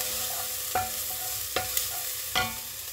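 Garlic and shallot sautéing in a pan, a steady close sizzle broken by three sharp scrapes of a stirring utensil spaced about a second apart, with no voices.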